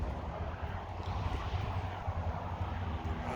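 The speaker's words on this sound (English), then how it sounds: "This wind is throwing me off. Lots of windage." Wind buffets the microphone outdoors at a homestead rabbit barn, a steady low rumbling roar that fills the whole stretch with no other sound.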